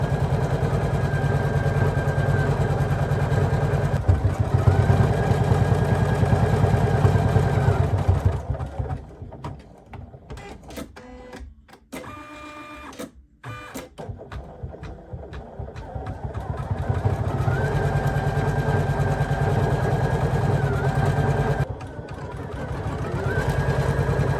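A Poolin embroidery machine stitches a bucket fishing hat with a loud, fast, steady mechanical whir and needle rattle, pausing briefly in the middle before resuming its continuous hum.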